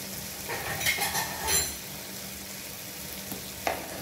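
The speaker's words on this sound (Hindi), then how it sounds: "अब इसमें मैं टमाटर डालने लगी" Tomatoes go into a hot pan of yogurt-coated masala for chicken rice, giving a soft, steady sizzle with a few light scrapes and clinks of a spoon against the pan, fairly quiet and close.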